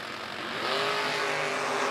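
Drag racing cars launching side by side with wheel stands at a Laris Motorsports Insurance $250K event, a loud sustained engine roar that swells after a softer start and holds steady with no talk.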